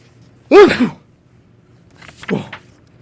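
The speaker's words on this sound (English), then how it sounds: "I sneezed a great sneeze." One loud, explosive sneeze up close, followed a second later by a softer throaty snort, with quiet in between.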